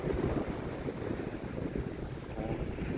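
Steady wind buffeting the microphone over rolling surf on a rainy December beach walk at Bunkers Island, a continuous dense roar without pauses or voices.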